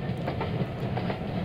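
Train carriage rolling along rails, a steady rumbling ride with faint rhythmic clickety-clack over the joints, continuous and moderately loud with no talk.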